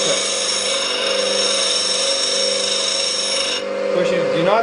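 A skew chisel held against a bench grinder wheel, giving a steady, loud, continuous grinding hum with a high metallic hiss that shifts slightly near the end.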